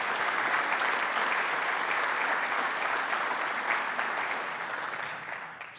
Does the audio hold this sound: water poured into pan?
no